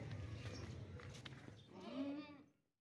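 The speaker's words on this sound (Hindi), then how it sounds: "ये गब्बन बकरी चेक करें भाई, बहुत ही ज़बरदस्त बीतल बकरी है" A two-toothed pregnant Beetal doe gives a single faint, drawn-out bleat near the end, over low, noisy background rumble.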